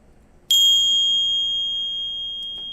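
A bright electronic notification ding strikes once, then rings on as a clear sustained tone that slowly fades over a quiet background.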